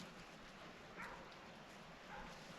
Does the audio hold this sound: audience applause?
no